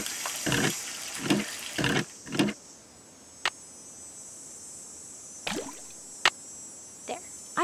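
A primed hand pump in the Nancy Drew video game gives several short wet squelching gushes in a quick run, then scattered drips and squeaks over a quiet hiss.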